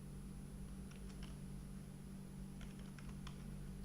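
Soft computer keyboard typing, a few scattered short bursts of keystrokes heard faintly behind a constant fan-like hum in a quiet room.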